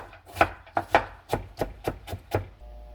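Steady knife chops of radish on a cutting board, about nine crisp strikes in a quick even rhythm, close up with no talking.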